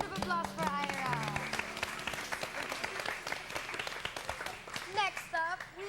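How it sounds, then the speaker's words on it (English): An audience at a reality show season finale applauds in a sustained burst of clapping, with people talking over it. "A round of applause for Ira."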